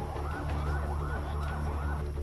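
Police vehicle sirens wail in a wavering rise and fall on the streets of a city in Kodagu, Karnataka, under tight security. They sound moderately distant and blend into a continuous street rumble.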